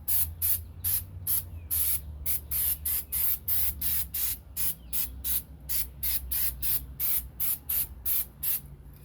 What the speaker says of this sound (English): we're going to start with this caliper cleaner, spray it on there, and then wipe the caliper off.